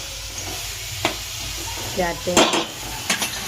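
Tempering sizzling in a pan for Kathiyawadi bottle gourd curry: a soft hiss under a sparse voice, broken by a few sharp clinks and scrapes of a spoon against the pan.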